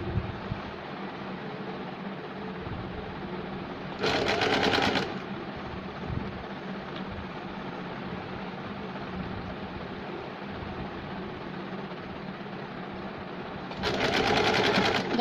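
A sewing machine stitches a dhoti salwar in two short loud runs of rapid needle chatter, separated by a long quieter stretch of room noise.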